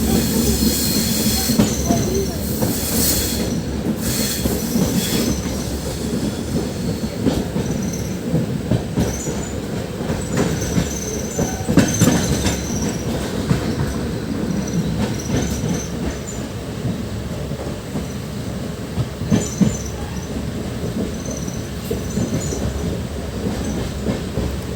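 A moving train on the way to Rayagada rumbles steadily along the rails, heard from inside with a loud, continuous roar, wheel squeals and occasional clacks over nearly 25 seconds.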